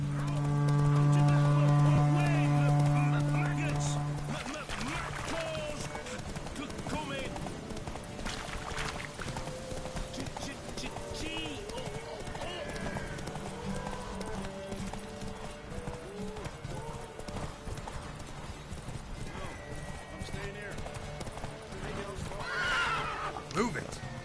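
Roach the horse in The Witcher 3 gallops with rhythmic hoofbeats and lets out several whinnies, under game music, with a person talking over parts of it.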